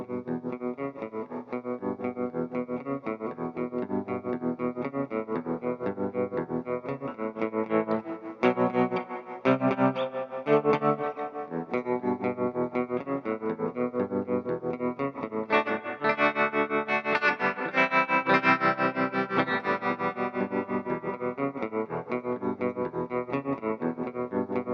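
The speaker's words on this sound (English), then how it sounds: "here's some examples of the tremolo and reverb." An electric guitar is played through tremolo and reverb pedals, chords and picked notes pulsing and washing out into lingering ambience, steady and alone with no voices.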